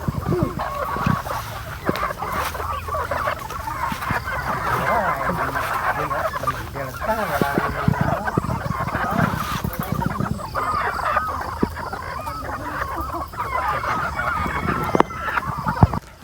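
Gamefowl stags and hens at a game farm cluck and chatter continuously in a dense flock, with scattered louder calls rising above the steady clamor.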